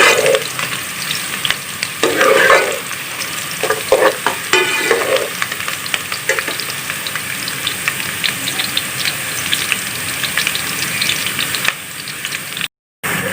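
Onions and ground masala of coriander, turmeric and salt fry and get stirred in a pan, a steady close sizzle with scraping spoon strokes over the first seconds, then continuous hissing to the end.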